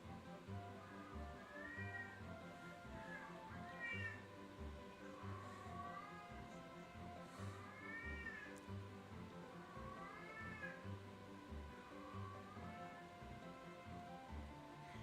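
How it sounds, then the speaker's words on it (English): A cat meows repeatedly in a remake of the video game Zelda II: The Adventure of Link, in drawn-out, rising and falling cries, fairly faint over a continuous low rumbling background. "Listen to the meowing."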